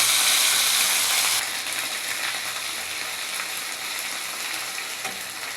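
Spices with nigella seeds sizzle and fry steadily in a pan for a sweet-and-spicy olive pickle, a loud dense crackle that drops slightly in level after the first second and continues alone without talk.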